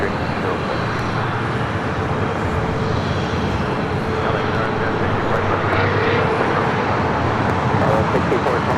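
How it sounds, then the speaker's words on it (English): A Japan Airlines Airbus A350-1000 jet taxiing across a runway at Los Angeles airport, a steady broad engine roar and rumble with no clear rise or fall, accompanied by a voice talking throughout. "Japan A350-1000 about to cross over 25 right"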